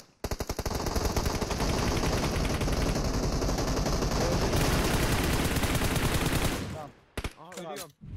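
Sustained automatic gunfire rattles without pause for about seven seconds during a PUBG battle on the Sanhok map. The rapid shots are loud and close, then break off into a few scattered bursts and silence.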